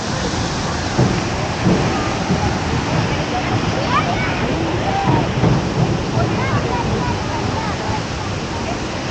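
Steady, dense roar of rain and rushing water near a volcano waterfall in Costa Rica, loud and unbroken throughout, with people talking faintly underneath.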